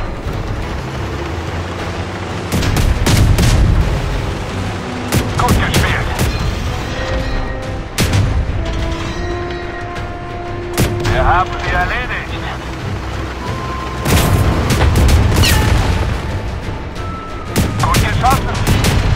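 Tank Company battle with a German Pz.Kpfw. II light tank: several loud booming cannon shots at irregular intervals over a constant engine rumble, with radio voice lines spoken between the blasts.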